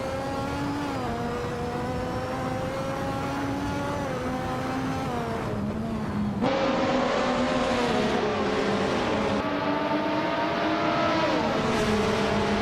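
Turbocharged V6 of a 1988 McLaren racing car in a racing video game, a loud, steady high-pitched engine drone whose pitch climbs and drops with gear shifts throughout.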